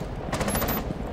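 Gunfire in the video game Rainbow Six Siege, a short rapid burst of automatic shots, close and fairly loud, lasting well under a second over a steady background.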